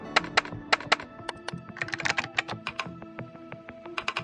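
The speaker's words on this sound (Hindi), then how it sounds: "कार्तिक की उंगलियों ने एक निश्चित दोहे टाइप करते हुए कीबोर्ड और माउस को जल्दी से नियंत्रित कर लिया।" Rapid keyboard typing with a few mouse clicks, a steady run of close, crisp key taps in quick bursts with no speech.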